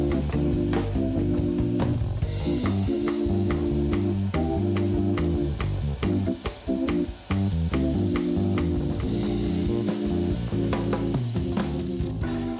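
Pieces of lamb browning in a frying pan for a stew, with a loud, steady sizzle and frequent crackles and pops throughout. Music plays underneath.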